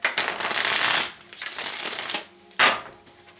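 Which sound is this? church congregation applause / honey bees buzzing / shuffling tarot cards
shuffling tarot cards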